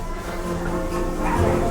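A dog barks and yips repeatedly at close range, steady and fairly loud throughout, with a whiny edge to some of the calls, on the Secret Life of Pets ride at Universal Studios Hollywood.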